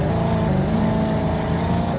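A BMW X5 engine revs hard and steadily for a couple of seconds, a loud, close, sustained growl with no voices over it.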